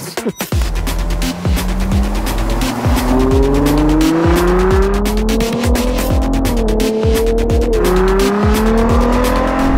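An 800-horsepower sports car runs hard on a wet track, its engine loud and near as it revs up and down through repeated gear changes, with bursts of tire noise and no talk.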